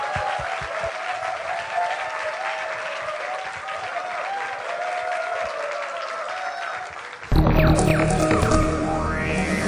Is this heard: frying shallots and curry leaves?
no